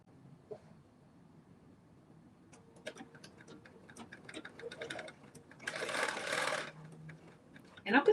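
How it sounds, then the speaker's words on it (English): A sewing machine runs a basting stitch at a 5/8-inch seam allowance down a skirt seam: one steady, fairly quiet burst of stitching lasting about a second, preceded by soft ticking and handling clicks. "So I'm going to use my 5/8 seam allowance, and I'm going to create my basting stitch."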